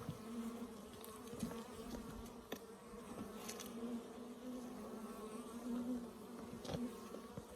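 A requeened Africanized honeybee colony hums at its hive with a continuous, dense buzz. Individual bees drone past the microphone now and then, swelling briefly louder before fading back into the steady swarm.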